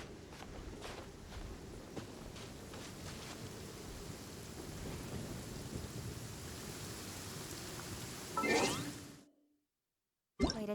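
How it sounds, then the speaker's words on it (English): Heavy rain pours steadily in Genshin Impact, a dense hissing downpour with faint thunder rumbling underneath, swelling briefly before cutting to silence, with no talking. "Quite a downpour."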